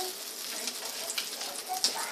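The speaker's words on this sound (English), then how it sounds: "I like when it sizzles." Pancake batter sizzles in melted butter in a frying pan, a steady broadband crackle with scattered sharper pops, fairly close and even throughout.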